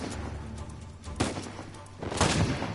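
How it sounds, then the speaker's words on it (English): Two shotgun blasts from a video game, fired at far range, the first around midway and a louder second near the end, each a broad booming burst over a steady low background. "I don't know why I'm shooting a shotgun this far range"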